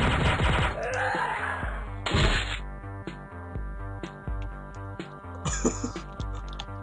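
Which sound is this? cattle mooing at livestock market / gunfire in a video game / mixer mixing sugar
gunfire in a video game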